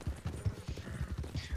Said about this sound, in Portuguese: mas eu sei que o Nevão é um cavalo extraordinário